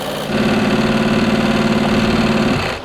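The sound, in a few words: car engine revving hard after its oil was drained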